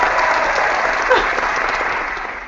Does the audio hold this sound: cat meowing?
no